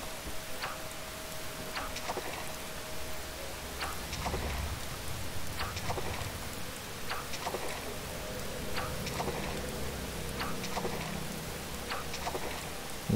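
Steady rain falls in the farming game Harvest Moon: Save the Homeland, a constant patter with scattered sharp drop ticks and a brief tonal hum early on, and no voices.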